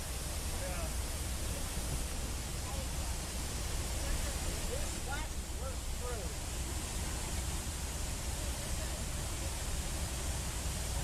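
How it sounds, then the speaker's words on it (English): Flash floodwater pours down like a waterfall, a loud, broad, unbroken roar of rushing water that holds steady throughout, with faint voices buried underneath. "It's just turned into a waterfall"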